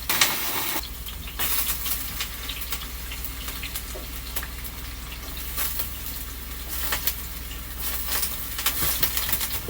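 Oil sizzles and spatters as homemade chips fry in a pan indoors, a fairly quiet, steady hiss with scattered sharp crackles and pops throughout.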